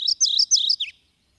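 High, sweet phrases from a warbler with no wing bars come in a rapid series of about three repeated chirps ending in a lower closing note, crisp and isolated in a quiet background.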